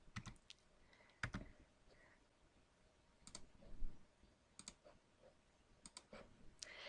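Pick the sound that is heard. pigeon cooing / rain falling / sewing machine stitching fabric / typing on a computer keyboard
typing on a computer keyboard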